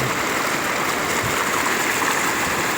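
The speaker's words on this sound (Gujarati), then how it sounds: "પાણી ધોધમાર આવી રહ્યું છે" Heavy rainwater gushes and rushes in a flooded Gujarati village near a temple and an overflowing pond during ongoing rain, a loud, steady, broadband roar of flowing water with no break throughout.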